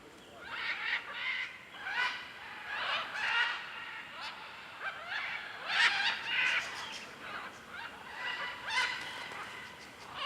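Harsh, raucous macaw calls repeat in bursts over about ten seconds, overlapping with one another and ringing with a hollow, echoing quality, in the Pantanal.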